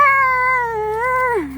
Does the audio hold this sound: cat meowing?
yes